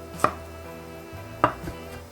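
Garlic and fresh ginger being finely chopped with a knife on a board for a Chinese-style eggplant dish: two sharp, close, isolated knife strikes, with a softer tap after the second, over a faint low hum, no talking.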